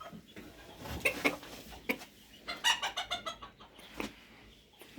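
A rooster and hens cluck and call in short, repeated bursts close by, with a busy farmyard background.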